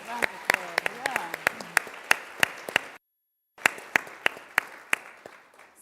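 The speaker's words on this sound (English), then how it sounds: "A round of applause" A small audience claps at a girls' leadership event, sharp scattered handclaps over a few seconds with a brief pause, and a voice speaks over the start.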